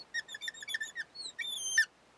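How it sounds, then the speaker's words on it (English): A marker squeaks across a whiteboard while someone draws resistors and a source for a circuit example problem, a string of short high squeals followed by one longer drawn-out squeak, fairly close and with no talk over it. "That squeaky marker drives me absolutely crazy, but I haven't found one yet that doesn't squeak"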